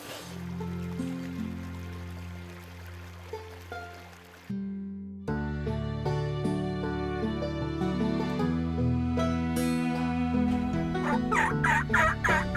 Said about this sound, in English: This year we had toms strutting and gobbling